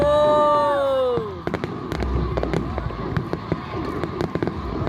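Fireworks over Pattaya at an international fireworks festival, bursting in a rapid series of loud cracks and pops after an opening whistling rise, with crowd murmur underneath.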